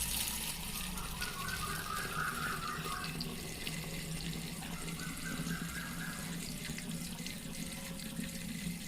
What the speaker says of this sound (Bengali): এবার বোতলে আমি 1 লিটারের মতন জল ভরে নেব।